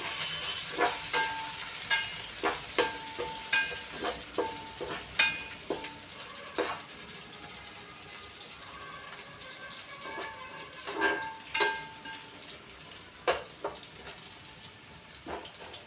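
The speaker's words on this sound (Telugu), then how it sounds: "ఉల్లిపాయలు బాగా ఫ్రై అవనిద్దాం" Sliced onion fries in a pan for chicken pulao, a constant soft sizzle broken by repeated clinks and scrapes of a spoon stirring, close and unaccompanied by voices.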